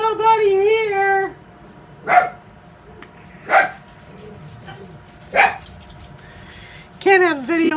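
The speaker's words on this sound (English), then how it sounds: "Can't have a video without these dogs barking, I guess." Dogs bark three times in sharp, separate bursts, spaced a second or two apart, with a whiny, voice-like sound at the start and end.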